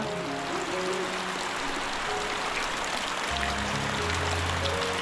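Heavy monsoon rain in the Konkan pours down as a dense, steady hiss, loud and close throughout, with no voices heard.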